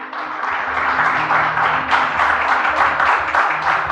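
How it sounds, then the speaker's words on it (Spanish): Church congregation applauding during a worship service: loud, sustained, dense clapping from many hands in a reverberant hall, running without a break. "Dale un fuerte aplauso al Señor."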